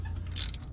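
A socket ratchet loosening a spark plug on a 2011–2016 Toyota Camry engine gives one short, sharp, close clicking burst lasting well under a second.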